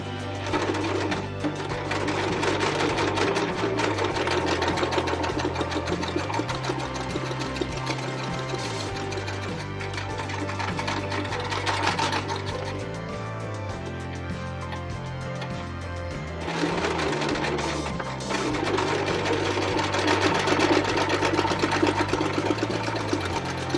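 A sewing machine stitches along the edges of a fabric cell phone holder pillow, its rapid mechanical whirring running in long bursts broken by brief pauses, close and clear with no talking.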